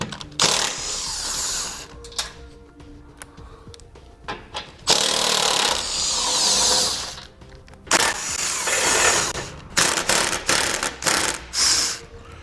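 Ratchet loosening the 14mm bolts on a 2015 car's front bumper, in bursts of quick clicking pawl strokes separated by short pauses, close and fairly loud, with no talk.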